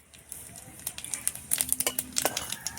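Whole cumin seeds hitting hot oil after bay leaf, a quick burst of crisp crackling pops that grows denser and louder over a couple of seconds, close and alone.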